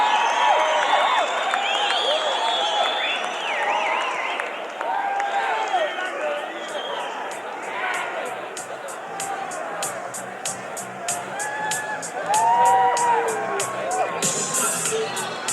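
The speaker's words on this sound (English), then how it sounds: "give them a big round of applause." An audience claps, cheers and whoops for contestants at a 1985 beauty pageant, a lively crowd roar under an excited announcer's voice, with clapping growing sharper and more distinct in the final seconds.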